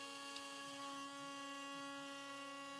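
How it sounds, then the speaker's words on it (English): CNC router cutting the perimeter shape of a guitar body from an oak table top, giving a steady, tonal machine whine and hum with faint cutting chatter, heard quietly and with no talking. "Once the machine starts to cut the perimeter shape, I know I'm almost finished."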